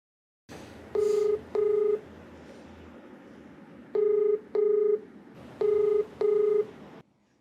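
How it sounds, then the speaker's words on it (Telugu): Touch-tone telephone keypad beeps come in three pairs of quick, clear tones with short pauses between, placed during a call for a television help programme, heard alone with a faint line hiss underneath. "ఒకసారి కాల్ చేస్తారా?"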